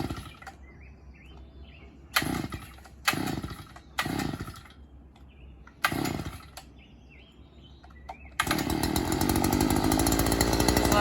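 Predator gas post hole auger pull-started with several sharp recoil-cord pulls and brief sputters, then the small engine catches and runs loud and steady with a buzzing roar close by.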